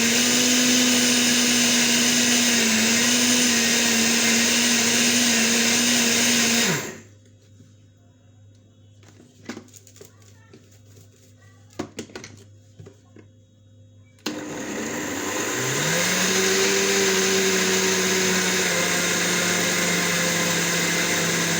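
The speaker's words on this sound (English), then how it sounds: "Blend the remaining smoothly." An electric blender grinds oats into flour with a loud, steady high whine and a pitch that shifts slightly. It stops abruptly for several seconds of near silence broken by faint clicks and knocks, then restarts and runs loudly again, with no talking.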